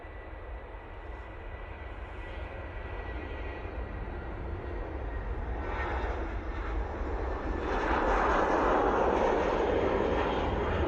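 An Airbus A319 passes at Manchester Airport, its broad jet engine roar building steadily louder over about ten seconds as it draws nearer, with no talk over it.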